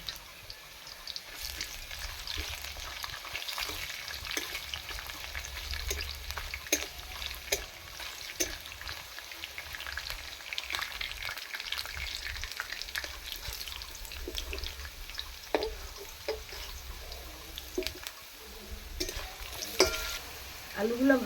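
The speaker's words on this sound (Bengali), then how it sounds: "আমি এই আলুর সঙ্গে দিয়ে আমি ভেজে তুলে নিচ্ছি" Potatoes sizzle steadily in a hot pan, with occasional scraping and stirring sounds, quiet and continuous throughout.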